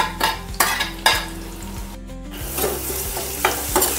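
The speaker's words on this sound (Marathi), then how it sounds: "आणि हा पण आपल्याला एकदम गोल्डन ब्राऊन होईपर्यंत फ्राय करून घ्यायचा आहे।" Finely chopped onion frying in a pan for pithla: a loud, close sizzle broken by repeated clattering stirs of a spoon against the pan, with no voices.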